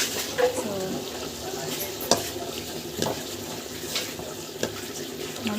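Dried fish sautéing in a pan, giving a steady close sizzle with repeated scraping stir strokes and occasional sharper clacks of the spoon against the metal.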